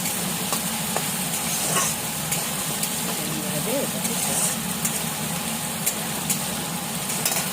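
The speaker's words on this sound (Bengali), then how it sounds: "আর একটা আলু একটু বড় করে কেটে দিয়ে ভালো মতো এটাকে একটু ভেজে ভেজে নিচ্ছি" Chunks of potato fry in oil with tomato and onion, a steady dense sizzle that holds close and even throughout, with faint stirring scrapes.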